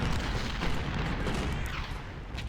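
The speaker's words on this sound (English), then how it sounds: "With the reload buff here, these cannons are going to be incredibly efficient" Dense, continuous volley of cannon and artillery fire in a strategy video game battle, booming shots overlapping into a steady rumbling barrage with no pauses.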